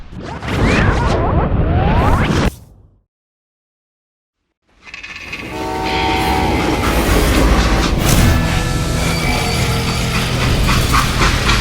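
A freight train in the video game Call of Juarez Gunslinger runs loudly with steady rumbling and clattering, broken by a brief silent gap before the dense rolling noise resumes for the rest of the clip.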